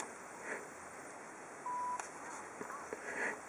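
Sony WH-1000XM2 headphones give a short, single electronic power-off tone, clear but brief against a quiet room background.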